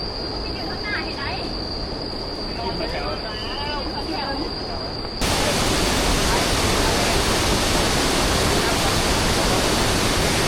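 The Tat Xao Va waterfall in Thoulakhom, Vientiane province, roars in a broad, continuous wash. Someone talks over it at first, then the rushing water grows louder and carries on alone.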